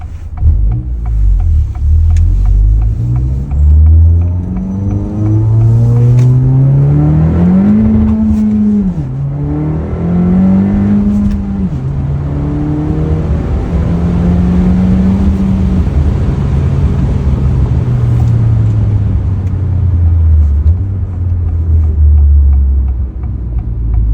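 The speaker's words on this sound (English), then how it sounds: "Just a quick little run with the exhaust." A 2022–2023 Honda Civic Si or Integra fitted with an MBRP exhaust drives at night, its engine droning steadily and rising and falling in pitch through several throttle and shift changes, loud and close throughout.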